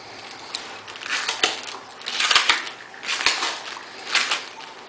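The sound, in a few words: cutting a section of gasket material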